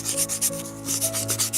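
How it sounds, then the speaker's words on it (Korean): Steady back-and-forth rubbing of 1000-grit sandpaper smoothing a miniature bowl, a soft rhythmic scratching up close, with no voices. "1000번 사포 사용해서 정리해줍니다."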